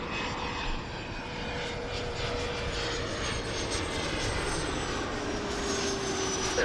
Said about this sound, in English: This must be that Phenom coming in